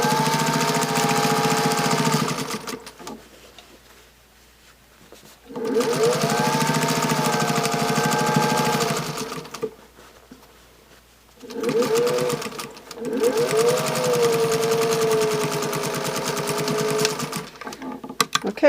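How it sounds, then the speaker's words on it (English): Sewing machine stitching binding onto a quilt, running in three loud, close bursts of several seconds each, with short quiet pauses between them and no talking. "So now I can put it back in my machine and I can finish sewing the binding on."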